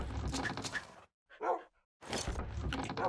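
A dog in the Minecraft Bounds modpack barks in two short bursts separated by near-silence, the first brief and faint, the second stronger, with louder game sound before and after.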